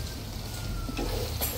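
Cebu longganisa sausage frying in its own rendered fat in a pan with no added oil, giving a soft, steady close sizzle with a few brief louder crackles near the end.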